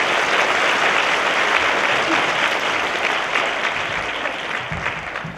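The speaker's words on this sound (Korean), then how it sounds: "큰 박수 부탁드립니다" A lecture audience at a university forum breaks into steady, loud applause that holds at full strength and then tapers slightly toward the end, with no voices over it.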